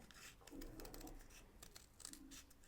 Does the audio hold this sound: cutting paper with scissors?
yes